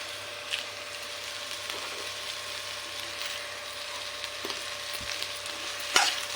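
Raw plantain and onion frying in a pan, a soft steady sizzle with occasional stirring scrapes and a sharp clack near the end, fairly quiet and close.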